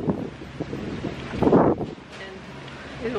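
Strong wind buffets the microphone outdoors on a hot day while walking to get a bike, gusting unevenly with a loud rush in the middle and softer rumbles around it.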